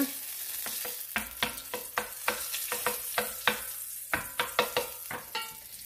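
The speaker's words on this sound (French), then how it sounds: "Dans un fouettour que j'ai déposé sur un feu moyen, je vais mettre le beurre clarifié, le faire fondre." Clarified butter melts in a whisk-stirred pot over medium heat for a meat and prune tagine, with a steady soft sizzle under repeated sharp scraping and stirring strokes close by.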